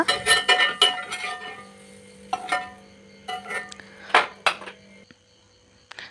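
Fried okra, tomato and onion are scooped from a pan onto a plate, with sharp metal spoon scrapes and clinks against cookware in scattered close bursts separated by quiet pauses.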